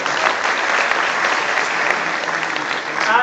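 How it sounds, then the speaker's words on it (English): An audience at a university Silver Jubilee alumni get-together applauds, with dense, sustained clapping that holds steady at full strength throughout. "Please, round of applause."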